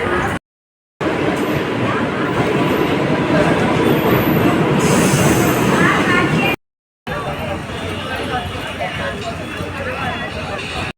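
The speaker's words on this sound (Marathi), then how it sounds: "लवकर ट्रेन आहे." A train rumbles past close by, a loud, steady roar with broadband rattle filling most of the stretch, briefly cut by two gaps; a voice is faintly present under the noise.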